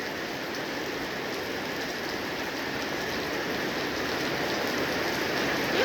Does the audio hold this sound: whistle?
no